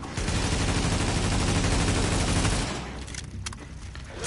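Dense, sustained gunfire in The Division, a loud continuous volley of rapid shots that drops off after a couple of seconds into scattered, quieter bursts.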